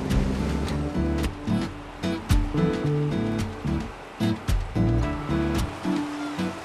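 Rough autumn seas crash and surge around a fishing boat working off the Korean coast, loud churning water in repeated heavy swells with rumbling low-end motion throughout.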